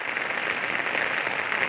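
Steady rain falls in Chhingchhip, Mizoram, a dense, even hiss of drops pattering on surfaces that holds constant throughout, with no voices.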